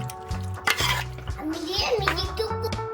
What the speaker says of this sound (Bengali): টমেটো সস দিয়ে দিচ্ছি ডিম দিয়ে ভালো করে আমি ম্যারিনেট করে নিচ্ছি